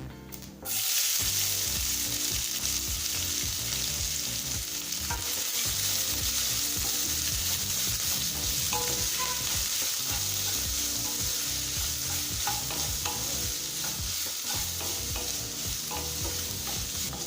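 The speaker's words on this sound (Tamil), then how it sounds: "இப்போ வெங்காயம் வதங்குற நேரத்தில்" Steady oil sizzle from three large onions frying with fennel seeds for a baby potato gravy, with occasional stirring scrapes, continuous and close with no talking.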